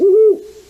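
Recorded owl hoot playing back from a Central Texas owl species, one smooth low steady hoot lasting about a third of a second, then a fading tail, clear and alone with no talk.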